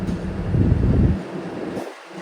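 A DEMU express train running, heard as a low rumbling roar of rail travel that swells and then fades, with steady background noise and no talking.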